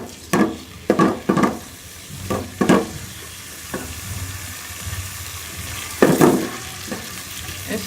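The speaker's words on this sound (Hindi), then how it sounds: "1 चम्मच घी की डाल के उसको गर्म कर लें और इसमें कटी हुई प्याज डाल दें और इसको गोल्डन कर लें" Chopped onions fry in hot ghee with a steady sizzle, broken by several loud scraping stirs of a spoon in the pan, close and clear with no talking.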